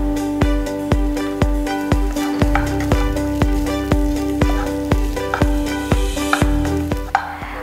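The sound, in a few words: cooked foxtail millet stirred into coconut masala in a pan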